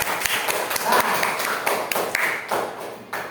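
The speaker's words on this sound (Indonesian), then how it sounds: "Tepuk tangan dulu." Dense applause from a classroom group after a student presentation, steady and lively for a few seconds, with claps blurring into a continuous patter.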